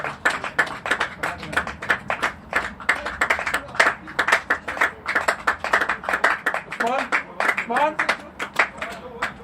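A smattering of scattered hand claps from a modest crowd at a cricket match continues steadily while someone talks over it.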